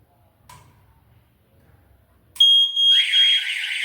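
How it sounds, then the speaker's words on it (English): A smoke detector inside a smart flexible container data center is set off by hand, giving a loud continuous high electronic alarm tone after a quiet stretch with a brief click. "once the smoke sensor senses the smoke, automatically the sensor will send a signal to the alarm"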